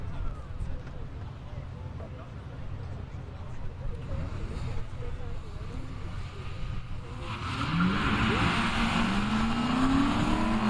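A Ford Mustang V8 and a Golf 5 GTI launch side by side on a quarter-mile drag strip, with engines rumbling at idle under commentary and then swelling into a loud rising roar of revs as the cars pull away.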